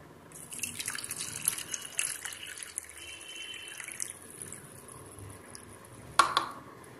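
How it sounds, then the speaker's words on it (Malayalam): Water poured from a cup into sugar in a pot for homemade grape squash, a steady close trickle and splash with scattered drips, with no talking. "ഈ വെള്ളം ഇതിലേക്ക് ചേർക്കുകയാണ്."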